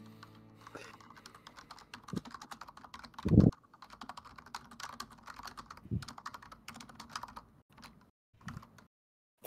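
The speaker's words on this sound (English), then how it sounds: "Furious typing!" Fast, furious typing on a computer keyboard during an online Dune board-game session: dense bursts of quiet key clicks, one louder thump and brief pauses, without speech.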